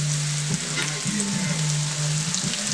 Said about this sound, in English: those onions are just diced. And I put them in there.